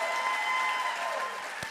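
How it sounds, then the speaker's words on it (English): Applause from an audience at a school district recognition celebration honoring the Teachers of the Year, a steady wash of clapping held at even loudness for the whole stretch without a break. "let's give her another round of applause and all of our Teachers of the Year"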